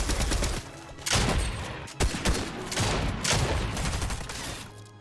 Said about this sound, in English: And he's still shooting at me